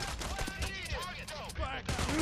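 Gunfire rattles in quick bursts during a heist mission in the video game Payday: The Heist, mixed with other game noise and some talk, moderately loud and close.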